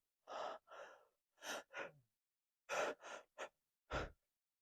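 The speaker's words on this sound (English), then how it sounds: "Some of you guys breathe like this." A man demonstrates shallow breathing with a series of quick, separate breaths, about eight short gasping inhales and exhales in uneven pairs, close and clear against silence.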